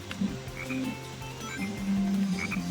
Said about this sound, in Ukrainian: Ти зустрічаєш зелену фрогі і починає рости ростіння.